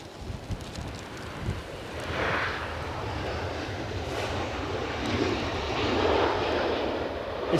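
A departing airliner at Edinburgh Airport bound for New York, its engines a steady distant roar mixed with gusty storm wind buffeting the microphone throughout.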